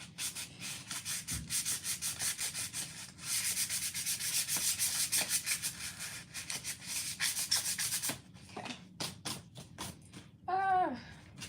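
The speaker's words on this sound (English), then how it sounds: "You don't need to see this, it's just sanding." Hand sanding a small square cosplay piece so glue will stick to it: rapid, rhythmic back-and-forth rubbing strokes in steady bursts, close and fairly loud. Brief pauses and a faint vocal sound come near the end.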